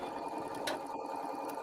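A sewing machine stitches quilting fabric scrap pieces with a fast, even mechanical whir, close and continuous for a brief moment, with no talking over it.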